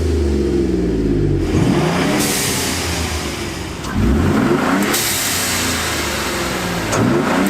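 A twin-turbo V8 truck running E30 ethanol fuel with a Corsa crosspipe exhaust revs hard several times, each rise in pitch surging and falling back over a steady idle. It is loud and close, with no voices.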